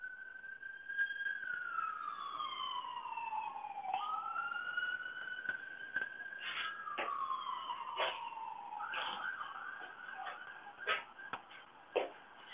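Police car siren drifting through a small town, a moderately distant wail and yelp that sweep up and down for the whole stretch, with a few short bursts of warbling near the end.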